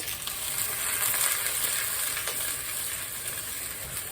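Chopped onions sizzle in a couple tablespoons of avocado oil in a pot for a homemade habanero hot sauce, a loud, steady frying crackle with no talk.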